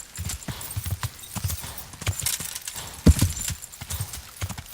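Horse hooves clip-clop at a steady walking rhythm on the ground in the video game Kingdom Come Deliverance, fairly quiet with a few sharper knocks.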